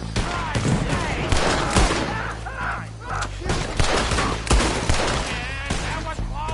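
A dense, chaotic gunfight from Red Dead Redemption 2, with many rapid overlapping shots, cracks and reports from several guns at once, continuous and loud, with voices shouting in the middle of the fire.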